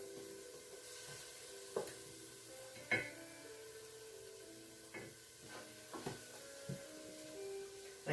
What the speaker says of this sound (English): That's sautéing nicely.